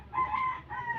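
A rooster crows once, a drawn-out cock-a-doodle-doo close to the recorder and fairly loud, heard alone in a Filipino yard where a grandmother is doing the laundry with children.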